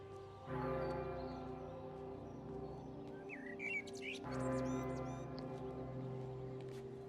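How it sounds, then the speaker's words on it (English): A blackbird sings in the video game Everybody's Gone to the Rapture, with several short bright phrases over a sustained, bell-like tonal drone. "Blackbird by the sounds of it."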